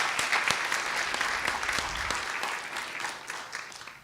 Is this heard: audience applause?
yes